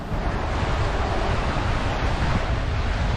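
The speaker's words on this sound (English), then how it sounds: "the boat's making her way through the water, leaving a nice bit of wake as well" A boat cuts through choppy water off Port Stephens at about 7.8 knots, throwing a wake. A dense, loud rush of churning water and wind noise stays constant throughout, with no talking.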